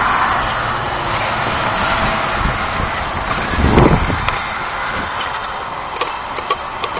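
A Fisher-Price remote control toy car creeps along in slow gear outdoors, its small motor whirring steadily under heavy wind noise, with a brief louder scuffing burst in the middle.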